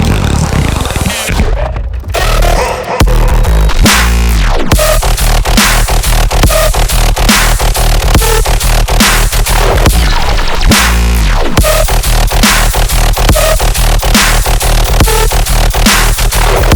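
Final mixed riddim dubstep drop, loud and dense, with pounding bass hits and wobbling, pitch-swept synth stabs repeating in a steady rhythm, broken by a couple of brief gaps.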